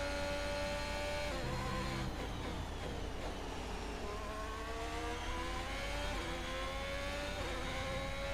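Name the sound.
racing car engine in a Formula 1 video game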